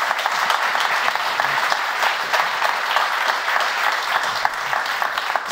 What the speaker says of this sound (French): ça s'applaudit, ça, je crois.